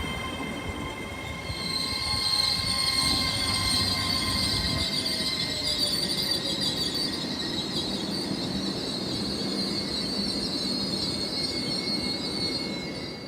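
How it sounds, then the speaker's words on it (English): An East Midlands Railway passenger train passes close by on a service from Peterborough to Liverpool Lime Street, a steady rumble of rolling wagons with high squealing wheels held throughout, and no voices. "The 1259 East Midlands Railway service from Peterborough to Liverpool Lime Street."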